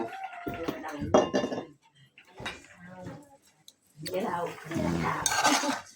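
Cooked bird meat being scooped into a small bowl, with close clinks and scrapes of a utensil against dishes in short bursts between pauses, under a voice speaking.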